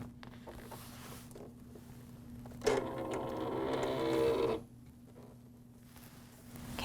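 A cutting machine loads material, with a low steady hum throughout and a louder whirring, rattling feed of roughly two seconds in the middle before it settles back to a quiet hum.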